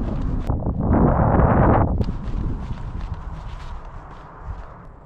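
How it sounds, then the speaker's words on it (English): Wind buffets GoPro cameras as they are carried at a run into the wind outdoors. The first two seconds bring a loud, rumbling roar, then gusty buffeting that eases and keeps fluctuating. "I'm just gonna run with them into the wind"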